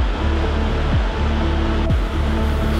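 Steady, loud roar of a 28-metre waterfall in the Jura, a dense unbroken wash of falling water with a faint low mechanical hum underneath.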